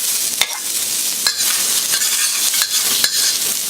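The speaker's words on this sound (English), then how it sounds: "Give that a quick stir fry." Celery, ginger and carrots stir-fry in a hot wok, a loud steady sizzle broken by several sharp metal-spatula scrapes and clinks at irregular intervals.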